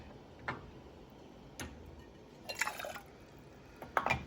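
Water is dipped out of an overfull canning pot, heard as a few faint, separate splashes and drips a second or so apart in a quiet room, with a cluster of small trickles near the end.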